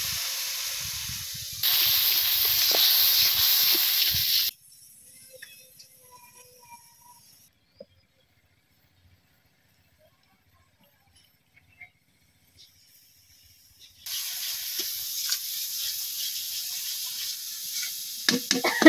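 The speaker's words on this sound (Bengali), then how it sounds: "মশলাটা দিয়ে দিতেছি, কষা নিতেছি।" Turmeric, chili powder and salt fry in a pan in a Bangladeshi village kitchen, giving a loud, steady sizzling hiss. It stops for several seconds of near silence, then resumes just as strongly.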